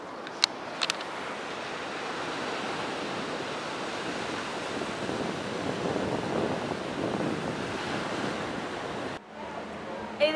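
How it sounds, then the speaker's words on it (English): Ocean waves and surf wash steadily along a Puerto Rico beach in a continuous broadband roar with some wind noise, ending with a brief drop in level near the end. "Here's the ocean."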